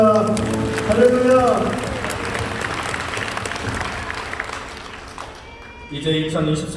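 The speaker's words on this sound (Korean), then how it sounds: "주님께 영광의 박수 올려드리겠습니다" Church congregation at a summer retreat opening service breaks into sustained applause, loud at first and slowly thinning out, with a voice speaking over the clapping near the end.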